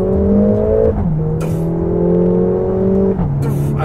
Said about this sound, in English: the flat foot upshifts, because it cuts the spark, and then it just combusts a little bit of fuel in the exhaust.